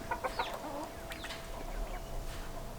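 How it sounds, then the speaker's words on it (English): Chickens cluck in short soft bursts in a backyard poultry pen holding a Muscovy duck, a few scattered calls close by over quiet background noise. "Got a Muscovy in there right now, but the chickens were pecking at it."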